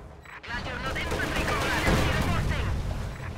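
Dense, continuous gunfire rattles from a T-70 light tank firing on Grenadier infantry in a real-time strategy game, loud and sustained with overlapping bursts and explosions, a commentator's voice mixed underneath.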